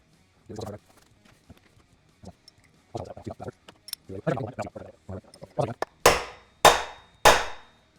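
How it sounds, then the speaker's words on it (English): Three sharp, ringing metallic hammer blows driving a wheel bearing into the hub of a 1996 Suzuki RM80 dirt bike, each strike close and loud with a short decay, after someone speaks with a few faint taps. "And there the sound changed. So the bearing's seated all the way down."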